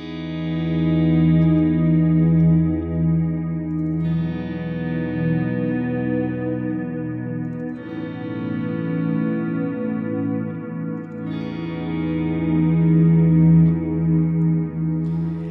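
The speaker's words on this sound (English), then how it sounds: "Let's go back to the ping pong version." Ambient electric guitar swells run through a ping pong stereo delay, with broad layered chords rising in three waves and echoes overlapping into a continuous wash; steady and loud, with no voice.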